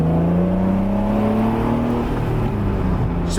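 A mid-engine, naturally aspirated Acura NSX with a manual gearbox accelerates hard, its engine note climbing steadily in pitch as revs rise, loud and close from inside the car.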